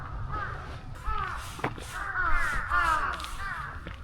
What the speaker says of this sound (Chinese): 乌鸦的叫声好像有人跌倒了